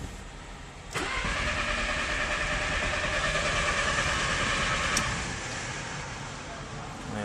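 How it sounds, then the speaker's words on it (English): A VW Beetle engine cranks steadily with a whirring, droning churn for about four seconds without catching, then the cranking sound fades slightly after a click, recorded close up. "Let's go to crank."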